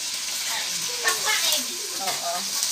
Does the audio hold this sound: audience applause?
no